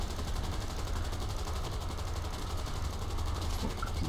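Aircraft guns in the War Thunder flight combat game, a British Firebrand TF Mk.IV plane, fire in a loud steady rapid burst over constant engine drone, with no talking.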